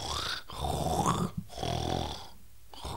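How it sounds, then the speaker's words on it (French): Deep snoring comes in rough, grunting breaths with short pauses between them, close and fairly loud. "Ça, il ronfle."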